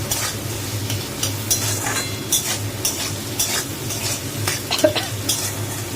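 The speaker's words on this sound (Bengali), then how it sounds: "নুন দিয়ে এটাকে ভালো করে ভেজে নিই" Vegetables frying in a pan after salt is added, a close, continuous sizzle broken by regular scraping stirs from a spoon against the metal pan.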